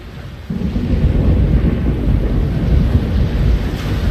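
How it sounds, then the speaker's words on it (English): Steady low rumble of an approaching thunderstorm in the video game The Longest Journey, a dense continuous roar of distant thunder and wind that swells in after a brief quiet start. "Storm front. West. Heading our way."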